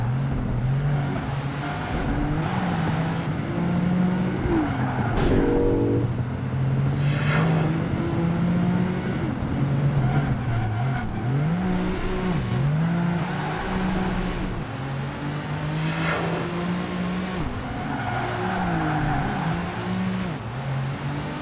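The Tamora race car in Project Gotham Racing 2 roars steadily throughout, its engine note rising and falling through gear changes and brief tyre squeals as it is driven hard, with no voices.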